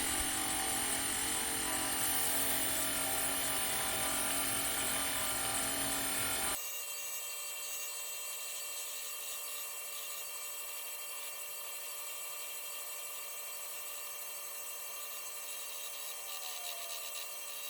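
A belt grinder works a wrought iron san mai chef knife handle, a loud abrasive rasp for the first several seconds, then cuts to a quieter steady motor hum with a faint high whine.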